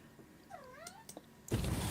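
A house cat lets out a short rising-and-falling meow in a quiet room, faint and slightly distant, followed by a burst of loud broadband rustling noise.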